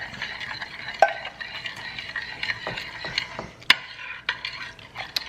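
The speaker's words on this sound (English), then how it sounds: "We have 2 eggs and they're well beaten. And then we have the milk. We're just going to mix those on up." Beaten eggs and milk whisked together in a bowl for baked macaroni and cheese, a quiet steady scraping swish with sharp clinks of the utensil against the bowl at irregular moments; close, no voices.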